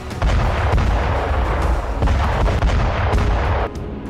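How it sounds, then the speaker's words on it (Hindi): Russian shelling strikes Ukrainian positions on the Zaporizhzhia front as a loud, continuous roll of booming artillery blasts and deep rumbling that barely lets up, ending with a slight drop in intensity. "ज़ेपोरिज़िया में रूसी सेना ने यूक्रेनी पोजीशन को इस तरह से धुआं कर दिया।"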